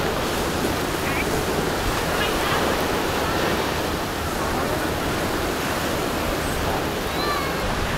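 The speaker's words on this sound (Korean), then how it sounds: "바다 색깔도 굉장히 좋고 파도도 좋은 것 같아요." Ocean surf breaks continuously along the East Coast shore in Singapore on a windy day, a dense, loud roar with gusty wind noise and no voices.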